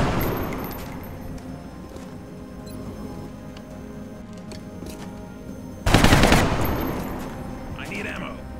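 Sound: gunfire in the video game XCOM Long War

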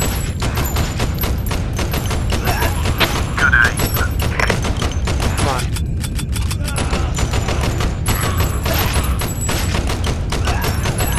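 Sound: gunfire from the video game Crisis Brigade 2: Reloaded

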